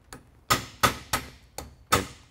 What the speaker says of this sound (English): what you need to do is utilise a cold chisel and hammer